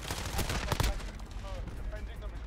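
Burst of gunshots in Modern Warfare 2 during a Search and Destroy match, several sharp cracks clustered early, then quieter game noise with a voice talking over it.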